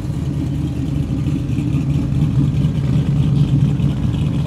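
A 5-litre V8 car engine at a night car meet, a deep, steady, close rumble that swells slightly without sharp revs.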